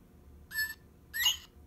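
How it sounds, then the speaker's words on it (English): A northern bobwhite's two-part whistled call, a short rising note followed by a sharper upswept one, clear against a quiet background. "It's a northern bobwhite."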